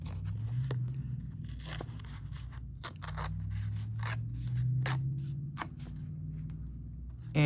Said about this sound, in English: I'm going to go tear it across the top so it's not just square